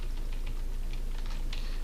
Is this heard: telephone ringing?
no